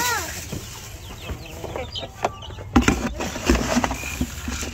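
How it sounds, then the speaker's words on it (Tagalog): Chickens clucking and squawking at feeding time on a farm, with scattered close calls, pecking and rustling, and a few sharper knocks in the second half. "That is a chicken. Big chicken."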